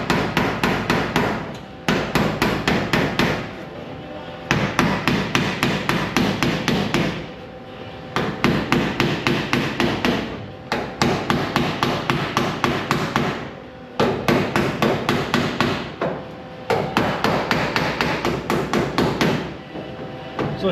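Steady hammer blows on a 1969 VW Bus rocker panel being beaten flat, fast rhythmic metallic strikes in repeated runs with brief pauses, loud and close.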